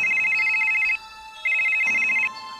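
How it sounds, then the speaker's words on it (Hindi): A telephone rings in steady electronic bursts, two long trills separated by a short pause, clear and close with no talking. "तभी गुल्ली का फोन बजता है।"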